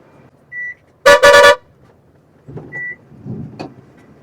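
A truck horn gives a loud, close double honk on the road, two quick blasts in a row, followed by quieter cab rustles and brief electronic beeps.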